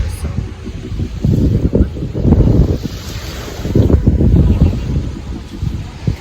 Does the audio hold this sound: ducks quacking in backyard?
no